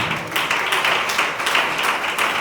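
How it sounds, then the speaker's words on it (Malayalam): An audience at a Sunday school anniversary celebration claps for the teachers, a dense, continuous round of applause that fills the whole moment at close range. "ടീച്ചേഴ്സിന് നല്ലൊരു കൈയടി കൊടുക്കാം."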